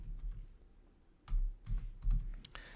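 Typing on a computer keyboard: several quiet, uneven key taps, followed by a few louder, heavier keystrokes near the end, with no talking.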